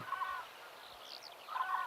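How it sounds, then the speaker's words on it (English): Wintering flocks of bar-headed geese, wild ducks and mallards in Yunnan give faint, distant honking calls in two short bursts, one at the start and one at the end, with quiet gaps between. "Bar-headed geese, wild ducks, and mallard flocks are always found here during wintertime"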